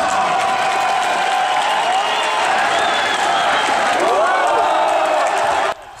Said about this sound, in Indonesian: Sorakan dari penonton tuan rumah memberikan yel-yel untuk petinjunya terdengar jelas